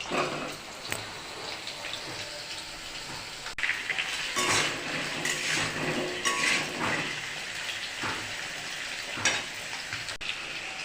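Potatoes frying in hot oil in a kadai (wok) with a steady, loud sizzle and crackle, bursts of spitting and stirring scrapes throughout, with no talking.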